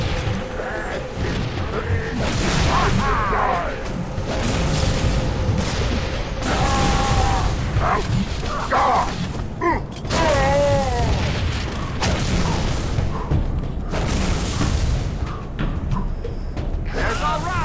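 Frag grenades go off in the shooter Halo 3 ODST amid dense combat: heavy booms and thuds over continuous gunfire and mechanical noise, with voices calling out through the battle.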